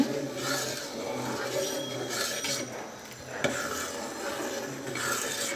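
A spoon scrapes and stirs steadily through sweet and sour soup thickened with cornflour and seasoned with pepper, a soft continuous rasping in a pot with an occasional light clink, no talking.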